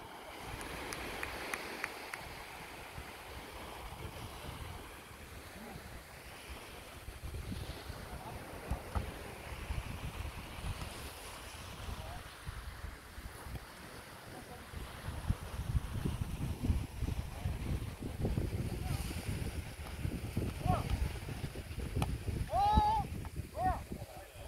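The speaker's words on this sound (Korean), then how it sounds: "파도 소리가 들리고 있습니다" Ocean waves wash steadily onto the coast at Goseong, Gangwon Province, during an outdoor tekball tournament, a broad continuous surf rumble mixed with wind buffeting the microphone.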